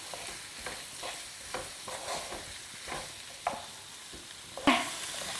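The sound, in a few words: stirring capsicum and carrots frying in a pan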